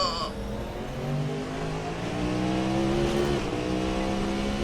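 Cadillac V-Series R race car in Assetto Corsa, its engine droning and rising in pitch as it is throttled through a dipping turn, loud and steady throughout.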